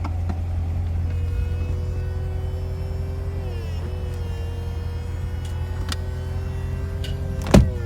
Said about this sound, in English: It does have a power top, so you can put the top up and down right here.